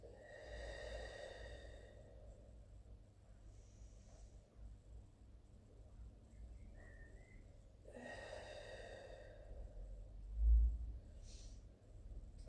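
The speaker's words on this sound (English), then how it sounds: "we're going to take nice deep breaths in through the nose," Slow, deep breaths in through the nose and out through pursed lips during a Pilates session, each long airy exhale close to the microphone, separated by quiet pauses, with a faint whistle.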